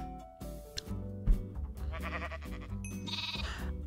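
A pink sheep bleats in a video game, a few plaintive cries over light game music, close and clear with nobody talking.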